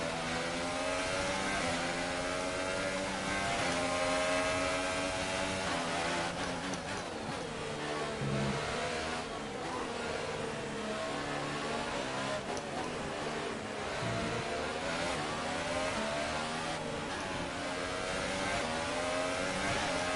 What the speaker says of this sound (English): So Vettel getting a good exit out of that corner there